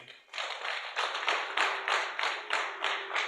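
Audience clapping in unison at a traditional Rwandan ceremony, a steady rhythmic beat of synchronized claps about every half second, close and fairly loud, with a faint sustained tone underneath.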